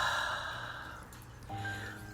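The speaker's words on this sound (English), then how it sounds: "Deep breath in through the nose and release through the mouth." A single deep breath drawn in through the nose and released through the mouth, close and soft, with a long airy exhale in a quiet room and no talking.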